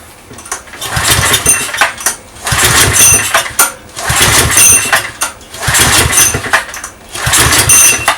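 A USA XL4000 petrol generator engine is pulled to start over and over, each pull a loud coarse mechanical burst of one to two seconds. About six attempts come in rough rhythm, with short pauses between them.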